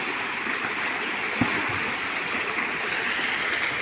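The Ciliwung river in Bogor rushes steadily past, a loud, unbroken broadband wash of flowing water close by, with a faint knock or two and no voices.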